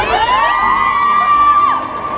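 A crowd shouts and cheers together, with a sustained high-pitched yell running through the din before it tails off near the end.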